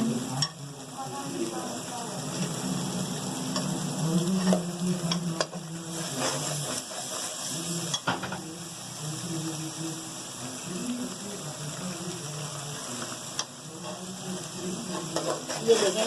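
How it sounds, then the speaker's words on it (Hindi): Masala for kofta gravy fries and sizzles in a pan with a constant hiss, broken by occasional stirring scrapes, while someone talks over it and a faint electrical hum sits underneath. "ये 5 मिनट हम जो ना मसाला भूनेंगे"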